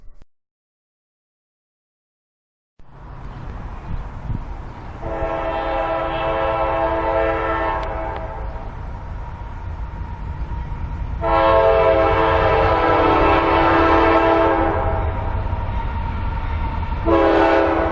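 A long rumbling freight train passes steadily on the Sayrehurst Secondary, with loud repeated horn blasts sounding at intervals over the continuous rolling noise.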